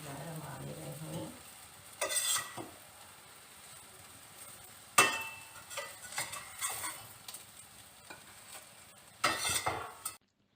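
Fried beef shami kebabs lifted from a pan with a utensil, giving a few bursts of metal scraping and clinking against the pan over a faint, low sizzle, no one speaking.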